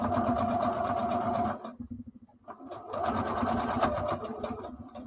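Sewing machine stitching in the ditch along a quilt seam allowance: fast steady motor-driven needle chatter, pausing briefly in the middle before resuming, close and clear.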